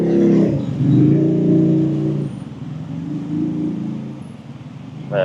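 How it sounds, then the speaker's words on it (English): Busy street traffic in central Ubud, Bali, heard as a close engine rumble from passing vehicles that rises and falls, with a brief sharper whoosh at the end. "Wow, will you look at this traffic?"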